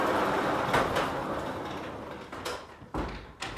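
A large door slides along its track in a log cabin kitchen, a rolling rumble that fades gradually, then a few sharper knocks and thuds as it settles, close by and without speech.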